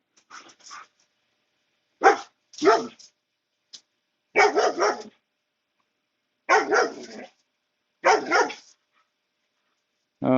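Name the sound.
dog barking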